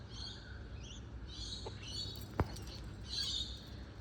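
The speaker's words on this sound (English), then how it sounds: "nice birds this morning." Morning birds chirp and sing faintly in the distance, high thin calls coming and going over a steady background hiss, with one sharp tap near the middle.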